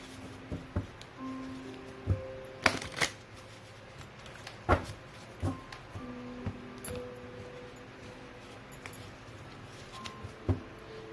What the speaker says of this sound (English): Just give it a little shuffle.